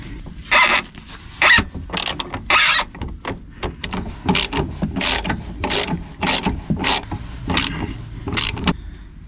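A socket wrench with a 16 mm socket unscrewing a rear shock absorber bolt on a first-generation Renault Kangoo, giving a close series of quick ratcheting clicks and metallic scrapes in irregular bursts, without talking.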